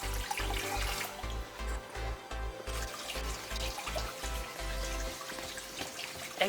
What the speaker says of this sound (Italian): la Fonte di Praglia, la Fontana della Madonna